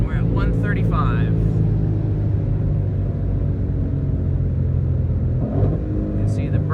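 Stock Ford GT500 pulling hard from a launch, a loud, steady engine roar with deep rumble filling the cabin, while someone speaks over it.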